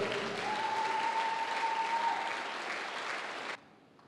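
A church congregation bursts into sustained applause, a dense, even clapping that fills the room for about three and a half seconds before cutting off abruptly.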